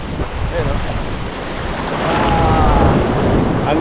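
Ocean waves wash onto a clear-water white-sand beach at Didaddungan, Palanan, Isabela, in a continuous loud surf roar. Heavy wind buffets the microphone throughout, and the rush builds slightly toward the end.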